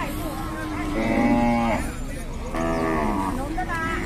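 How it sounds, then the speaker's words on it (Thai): Cattle at a livestock market lowing in two long, loud moos, one after another, with market noise in the background. "กับวัวที่กำลังเริ่มเข้ามาใหม"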